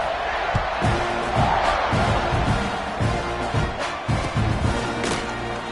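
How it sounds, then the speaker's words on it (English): Stadium crowd in a football video game, a steady loud buzz of many voices filling the whole stretch, with dull thumps and crowd swells scattered through and commentary voices over it. "this crowd is buzzing after that last score"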